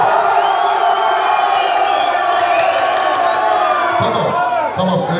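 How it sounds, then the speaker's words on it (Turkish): A wedding crowd shouts and cheers together on request at a Turkish wedding celebration in Saint-Étienne, France, a sustained loud roar of many voices with whoops, swelling briefly near the end. "Bağırın bakalım, nasıl bağırıyorsunuz?"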